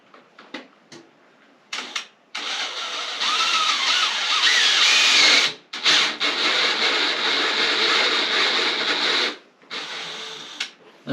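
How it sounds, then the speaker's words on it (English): Power drill fitted with an old ceramic tile cutting bit bores into a downstairs bathroom floor down toward limecrete, a loud grinding whine running in long sustained bursts with short pauses and a few brief starts. "I went hunting in the depths of the toolbox for an old ceramic tile cutting bit to see if that would do the job."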